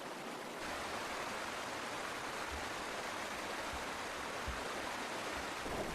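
Steady, full-bodied rush of river water churning continuously, loud and close with no pauses or voices.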